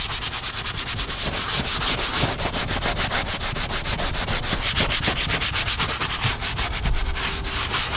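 A brush agitates cleaner across a worn, ripping leather car seat, producing a steady, close scrubbing rasp with a rapid back-and-forth rhythm throughout.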